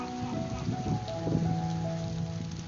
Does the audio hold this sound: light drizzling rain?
yes